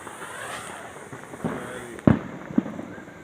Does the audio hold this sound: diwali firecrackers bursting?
yes